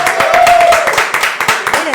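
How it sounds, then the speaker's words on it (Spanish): Audience applause greeting a historian introduced as a guest at a talk on Chilean wine history, dense clapping with a voice cheering over it throughout. "aplauso."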